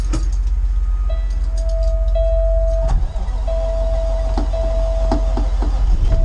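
A Peterbilt truck or John Deere 8320R tractor engine runs steadily and close by, a loud low diesel rumble with a sustained tone, a brief dip near the middle, then carrying on with scattered clanks.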